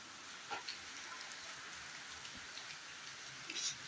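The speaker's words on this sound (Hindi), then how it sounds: "ठीक ठीक बारिश हो रही है, बढ़िया बारिश की।" Steady rain falls on a home balcony, a dense even hiss of drops with a few brief louder splashes and patters, fairly quiet and continuous with no voices.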